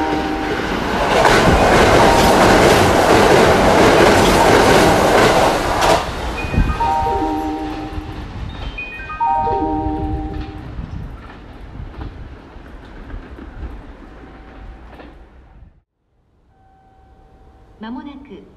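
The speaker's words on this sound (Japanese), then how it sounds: "電車が通過します。" A train rushes loudly through Kintetsu Yatomi Station, a dense roar of wheels and clattering rail joints that fades away as a horn and station chimes sound, followed by a pause and a quieter tone.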